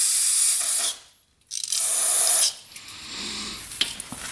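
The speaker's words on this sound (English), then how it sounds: "Take some brake cleaner to spray that down." Brake cleaner sprays onto a quad's reverse switch in two bursts of loud, close hissing, split by a short silence, with faint mechanical handling noises afterward.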